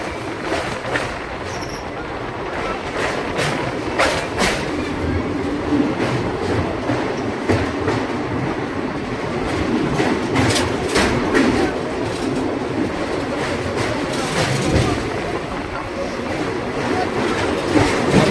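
Santragachi–Digha passenger train crossing the Kolaghat rail bridge over the Rupnarayan river, heard from on board: steady loud rumble of wheels on the bridge with rhythmic clickety-clack and occasional metallic squeal, continuous throughout.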